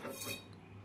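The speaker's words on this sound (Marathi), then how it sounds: "पडल ते पातेलं खाली." A metal cooking pot falls in a home kitchen where Maggi noodles are being made, a brief bright metallic clatter that rings briefly and fades over a low background hum.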